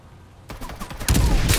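Farlight 84 gunfire crackles in rapid bursts, starting moderate and turning into a loud, dense volley in the second half, with no talk over it.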